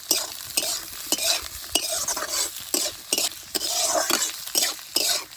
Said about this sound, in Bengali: সবগুলো হালকা করে একটু ভেজে নেব।